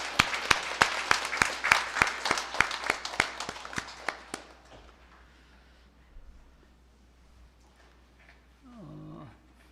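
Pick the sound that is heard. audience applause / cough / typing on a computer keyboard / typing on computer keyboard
audience applause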